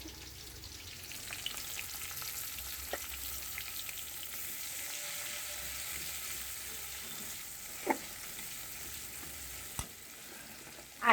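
Onion fries in oil before spices go in for a tilapia fish curry, making a quiet, steady sizzling hiss with a few isolated clicks of a utensil against the pan.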